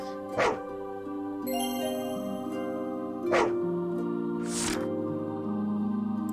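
A dog barks in the Voidswept video game, a few sharp yaps spaced apart over a layered musical soundtrack with sustained tones.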